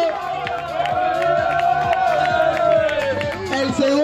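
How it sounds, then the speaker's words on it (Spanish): Crowd at an outdoor soapbox race in La Floresta breaks into loud, sustained applause with cheering and whoops over music, steady for several seconds. "Un fuerte aplauso."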